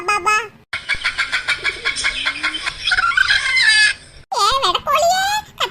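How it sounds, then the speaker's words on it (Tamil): A hen squawks and clucks loudly in repeated frantic bursts while being caught, with short gaps between cries and a voice talking over parts of it. "வேட்டை கோழியே கத்தாத, கத்தாம உன்னையே நான் கூட்டிட்டு போயிரேன்."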